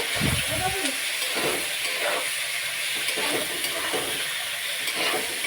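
Goat meat curry being stirred in a pan: a loud, continuous hiss and sizzle with intermittent scraping stir strokes, heard close, while people talk in the background.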